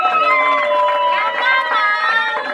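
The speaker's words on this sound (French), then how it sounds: "Avec nos acclamations." Crowd at a first communion celebration cheering and acclaiming steadily, a dense wash of voices with sustained tonal shouts and singing-like calls throughout, fairly loud and close.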